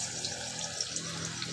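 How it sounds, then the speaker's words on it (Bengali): Cabbage pakoras sizzle in hot oil as pieces are dropped into the pan one by one. A steady, close hiss and crackle runs through the clip with no talk. "বাঁধাকপির পকোড়া আমি এক এক করে এবার দিয়ে দিচ্ছি তেলের মধ্যে"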